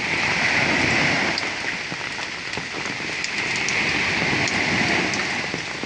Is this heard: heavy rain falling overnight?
yes